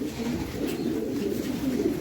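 A young pigeon coos softly in a loft in Madrid, Spain, a low, continuous burbling murmur that holds steady, near and moderately quiet.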